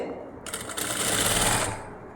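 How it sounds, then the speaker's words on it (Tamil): A sewing machine stitches a puff sleeve in one close, fast-running burst of about a second and a quarter, rising then dropping off, with a soft hum before and after. "ஒரு அரை இன்ச்சில் நம்ம நேராக தைச்சிட்டு வருவோம்"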